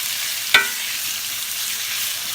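Bell pepper and celery fry in a pot for a turkey neck and pork loin stew, giving a steady sizzling hiss broken by a single sharp clank of the spoon against the pot.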